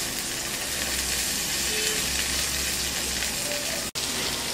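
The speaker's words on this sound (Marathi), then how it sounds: "आता आपण कापलेला कांदा घालू." Chopped onion goes into hot oil already holding asafoetida and green chillies for chivda, and it gives a steady, close, continuous sizzle and crackle throughout, with no talking.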